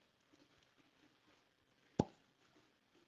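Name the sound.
cork popping out of a George Dickel whiskey bottle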